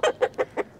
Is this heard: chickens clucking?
yes